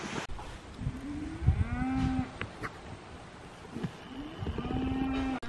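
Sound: cows mooing

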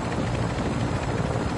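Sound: helicopter in a video game

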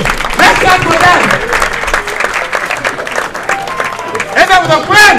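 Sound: applause for performers

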